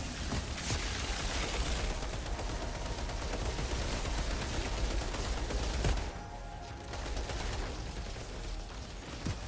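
The Damascus machine gun firing in Outriders, a continuous, dense stream of rapid shots at high volume that briefly eases partway through and then carries on.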